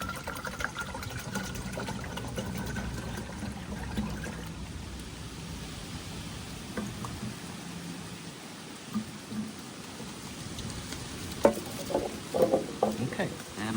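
Brake fluid being poured to fill a power bleeder while servicing the brakes of a Porsche Macan GTS, a soft continuous liquid trickle and pour running close by throughout, with a few small clinks and handling knocks near the end.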